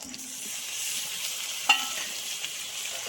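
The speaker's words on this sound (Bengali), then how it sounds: "দিয়ে আমি এরকম ভাজতে থাকবো। ঢাকা দিয়ে দিয়ে ভাজবো" Chicken frying in a pan with tomato sauce, a soft steady sizzle with a single sharp clink of stirring partway through, quiet and close.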